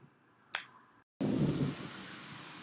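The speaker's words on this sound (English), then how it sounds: "Do you hear that thunder?" Thunder during a heavy rainstorm, a sharp crack early followed after a brief gap by a loud, sustained roar of downpour and rumble close by.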